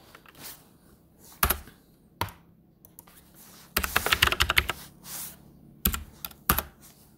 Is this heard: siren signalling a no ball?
no